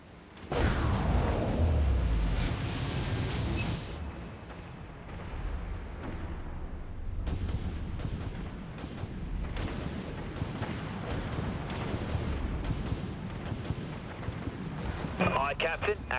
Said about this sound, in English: Launching flechette swarm.